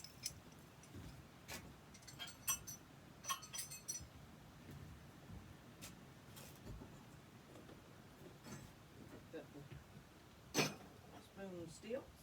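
Ceramic spoons in assorted colors clink and tick against each other in small scattered bursts while being unloaded from a kiln, with a brief sharper clatter near the end and soft background noise.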